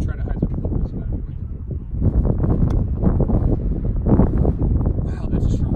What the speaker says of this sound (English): Wow, that's a strong wind.